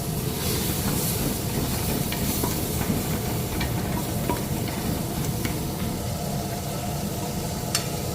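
Ginger, garlic, turmeric and tomato with a little water cook in a pot for Kuwaiti fish majboos, a dense, steady frying hiss with faint scrapes and taps of stirring throughout, no speech.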